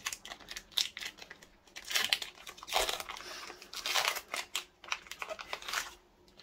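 Pokémon booster packs are torn open and handled up close, bursts of foil crinkling and ripping with papery rustles in between, irregular and fairly quiet, with no talking.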